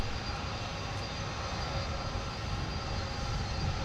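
A UPS cargo aircraft taxis at Minneapolis–St. Paul airport, its engines a steady, broadband roar with a continuous whine, heard from a distance without any voices.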